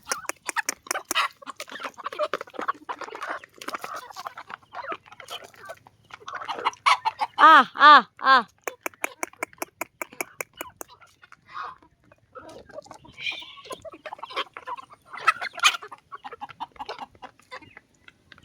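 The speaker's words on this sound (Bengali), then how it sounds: "সব এইগুলো আমাদের সব দেশি মুরগি।" Native village chickens crowd together to eat khichuri on a rainy day, clucking close by while a person talks throughout and calls to them with a few drawn-out vocal cries midway.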